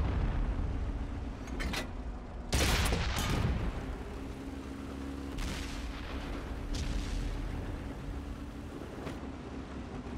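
Tank battle in World of Tanks on console, with a Chrysler K heavy tank under fire. Heavy booming cannon shots and impacts burst out irregularly over a constant engine rumble, some near and loud, others more distant.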